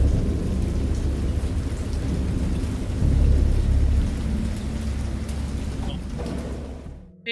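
Heavy rain pours steadily in a video game thunderstorm while deep thunder rolls and swells midway, then the storm cuts off abruptly to silence at the end.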